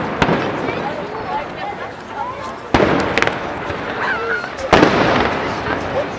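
Fireworks explode at an outdoor display in three loud, sharp bangs spaced a couple of seconds apart. Crackling and rumbling echoes trail each bang, and crowd noise carries underneath.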